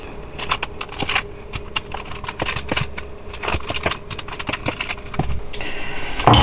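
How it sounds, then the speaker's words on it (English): A knife cuts a block of queso dip cheese into cubes on a cutting board, making a close series of sharp, irregular taps and clicks with no talking. "I am gonna cut these in half, maybe thirds. And cut them into cubes."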